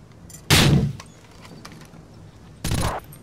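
In Rainbow Six 3: Raven Shield, a flashbang grenade goes off as a sharp, loud bang with a short noisy tail, followed about two seconds later by a second similar blast over quiet room tone.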